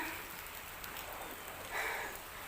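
Steady hiss of rain falling, a dense wash of drops with a brief louder patch near the end, no voices.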